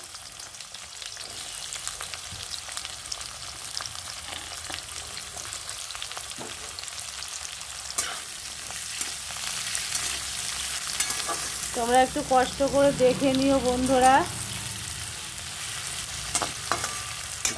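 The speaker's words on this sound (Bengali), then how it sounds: "পেঁয়াজ আলুটা আমি একটু ভেজে নেবো" Onion and potato fry in a pan with a steady, close sizzle and occasional stirring scrapes; someone speaks briefly partway through over the frying.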